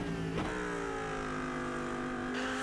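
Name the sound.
Lamborghini Huracan GT3 Evo 2 race car engine in iRacing video game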